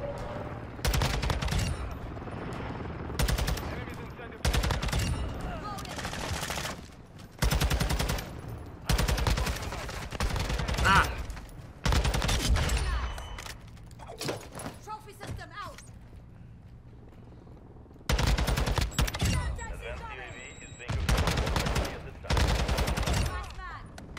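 Gunfire in a Call of Duty match with a TAQ-56 rifle: repeated sharp bursts of automatic fire in clusters, separated by quieter gaps with footsteps and game noise, a player's voice talking throughout.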